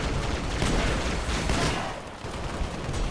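A shotgun fires repeatedly in Halo: Spartan Assault amid a dense, continuous roar of gunfire and explosions, loud and steady with rapid overlapping blasts.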